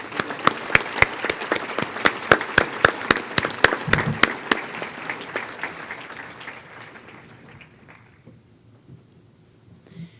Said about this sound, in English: May we please give a round of applause to our second group of nominees